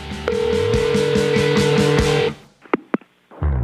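A telephone voicemail playback tone sounds as a steady electronic beep with pulsing tones, then breaks off into a few short sharp blips before a brief resumption.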